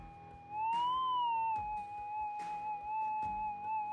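Minelab GPX 6000 metal detector threshold tone, a steady electronic hum that wavers and rises slightly under electromagnetic interference, with faint clicks and knocks from handling.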